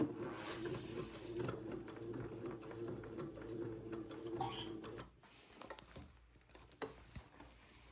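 A sewing machine stitches piping onto the facing of an Eton suit jacket, giving a steady rapid mechanical patter for about five seconds, then stopping and leaving a few faint ticks and taps.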